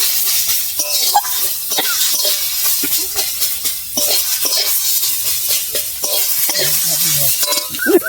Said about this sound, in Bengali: 1/2 চামচ হলুদ দিয়ে ভালো করে নেড়ে চেড়ে দেবো